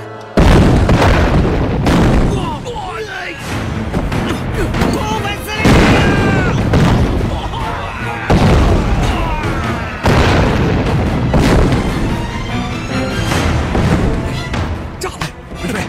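A bomb goes off in a Chinese war drama: loud, heavy booms and rolling rumbling blasts follow one after another, close and dense, with voices mixed in.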